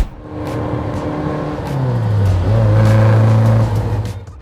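BMW E30 M3 car engine, idling then swelling into a loud rev that holds high and steady before easing off, close by with no talk over it.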